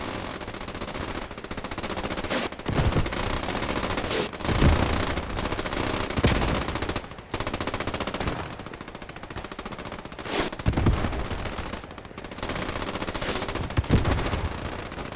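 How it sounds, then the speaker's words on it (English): Sustained machine-gun suppressive fire in the WWII shooter Post Scriptum, with long rapid bursts and heavier booming shots mixed in, loud and continuous. "using their tactic of just volume of suppressive fire"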